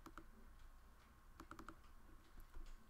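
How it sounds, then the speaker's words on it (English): Quick bursts of key clicks from a computer keyboard as numbers are entered, a short cluster near the start and a faster run of several taps in the middle, fairly faint and close, with no talking. "Sometimes it's easier to just type these things in"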